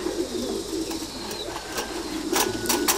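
A Thai Titan meat pigeon, about 20 to 25 days old, coos softly and steadily amid a continuous background hum, with a few sharper clicks and bird calls near the end.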